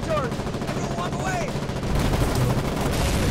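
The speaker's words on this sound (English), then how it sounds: "He's shooting rockets at your left side" Battle noise in the war game Foxhole as a tank takes fire: a dense, steady roar of distant gunfire and rocket blasts, with a brief faint whistle, sounds louder in the second half.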